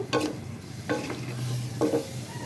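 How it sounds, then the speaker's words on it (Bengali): Chicken roast with milk being stirred in a pan, three scraping strokes of a spoon spaced about a second apart over a low simmering sizzle, close and alone. "এটাকে এখন আমি আবার নেড়ে নিব।"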